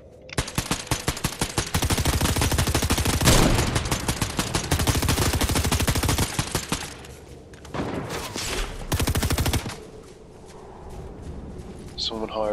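Rapid SMG fire in Fortnite, long loud bursts of tightly spaced shots broken by brief pauses, with a voice talking over parts of the shooting.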